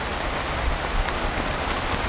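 Heavy rain pours steadily during the Dussehra festival, a dense, even hiss of drops drumming on surfaces, close and loud with no pauses and no voices.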